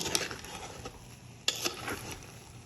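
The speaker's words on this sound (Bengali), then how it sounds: "পোলাওগুলো এখন নেড়ে চেড়ে উল্টা পাল্টে দিব একটু" Hilsa pulao rice is stirred and turned over in a cooking pot, giving soft scraping and a few sharp utensil clinks against the pot, fairly faint and irregular, with no voices.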